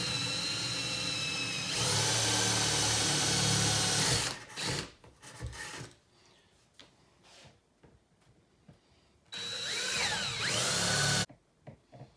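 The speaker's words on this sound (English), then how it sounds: "find the center, and drill that out" Power drill boring holes through a door panel, running in loud sustained bursts of a few seconds each, separated by quieter handling clatter and pauses.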